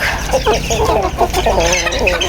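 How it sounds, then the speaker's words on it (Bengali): Pet roosters cluck loudly and close by in a quick string of throaty calls that overlap one another over a low background rumble. "আরও আছে এই যে এই দুইটা হাসে মোরগ"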